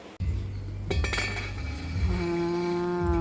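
A metal lid settles onto a pot of taro with santol set over a medium flame, giving a brief clink and a rattle, then a sustained ringing tone that lingers over a low hum.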